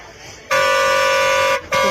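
A vehicle horn honks at a leopard attacking a cow at night in Gir Somnath, a loud sustained blare lasting about a second, a brief pause, then a second blast starting.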